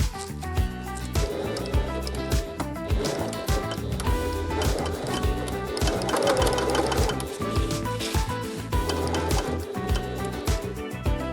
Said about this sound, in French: on va pouvoir recoudre le biais, cette partie-là qu'on avait décousue en premier